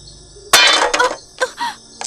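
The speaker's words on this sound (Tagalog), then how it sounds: "Parang may mabigat na bagay na bumagsak sa bubong namin." A heavy object crashes onto a house roof in a horror story, a sudden loud impact followed by rattling and clattering debris, then a second, shorter clatter.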